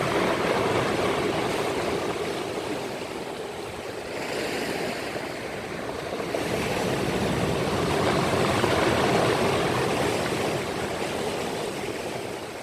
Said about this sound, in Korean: 오늘 파도가 상당히 심합니다.